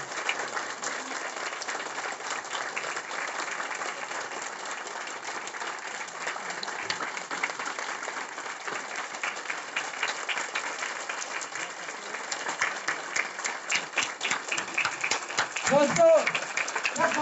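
A hall audience claps loudly and steadily to welcome a teacher coming on stage, a dense, continuous roar of hands that swells toward the end, with a few sharper claps and crowd noise near the close.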